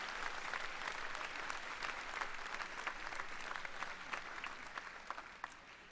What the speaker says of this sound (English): Ladies and gentlemen, please give a round of applause to some of our distinguished guests.